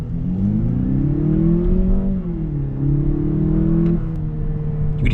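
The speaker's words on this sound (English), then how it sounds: "you can hear that 2-liter turbocharged engine" The 2-liter turbocharged engine of a 2022 Lexus IS300 RWD F-Sport revs from inside the cabin, pitch rising then dipping and climbing again over a few seconds before settling to a steady drone, with no talk.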